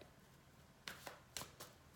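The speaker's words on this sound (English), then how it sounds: "I need to shuffle." Ascended Masters oracle cards being shuffled by hand: a few quick, soft riffling bursts spaced across a couple of seconds over a faint background, with no talking.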